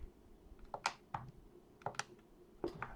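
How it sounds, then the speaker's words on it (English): Sharp, quiet clicks from a computer mouse, a handful of separate taps spaced irregularly over a soft room hush with no voices. "Oops, I keep clicking."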